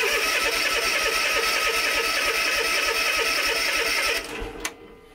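The engine of a Ferris ProCut S series mower cranks loudly and rhythmically after a starter solenoid replacement, churning for about four seconds before cutting off with a final clunk.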